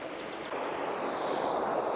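Water spilling over a small river spillway makes a steady, loud, broadband rush that continues without a break and swells slightly after the first half second, with no voices.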